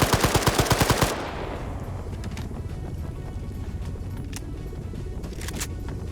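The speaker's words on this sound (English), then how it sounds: "Flanking with machine gun fire." A quick, loud close-range burst of about nine evenly spaced machine gun shots in a large multiplayer battle, followed by a dull background rumble with faint scattered distant shots.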